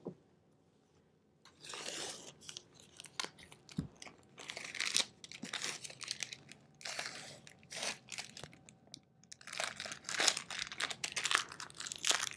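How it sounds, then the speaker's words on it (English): Masking tape peeled and torn away from fabric while quilting a layered hourglass-block quilt sandwich, heard as a run of close crackling, crinkly tearing bursts with short pauses between pulls, no voices. "let's get rid of that tape first"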